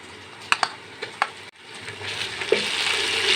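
Ginger garlic paste fries in hot ghee, a steady close sizzle that builds and thickens after a brief dip, with a few sharp spoon taps against the pot early on.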